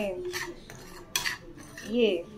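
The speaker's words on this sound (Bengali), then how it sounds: "সুজিটাকে একটু ঘিতে নেড়ে নিচ্ছি" Semolina being stirred in ghee in a metal pan, heard as a few close scrapes and clinks of a spoon against the pan over a short stretch.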